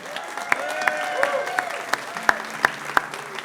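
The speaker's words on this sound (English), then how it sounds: "Another round of applause, everybody" A radio show audience claps in a scattered way, the claps sharp and uneven, with a faint tonal hum underneath.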